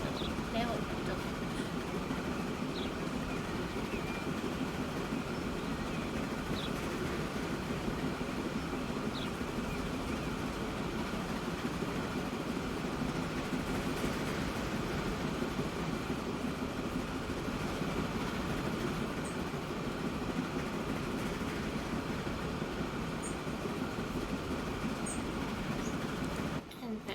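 Train running in the video game Transport Fever 2 at about 50 km/h toward a bridge, a steady, even engine and rail rumble throughout with no pauses.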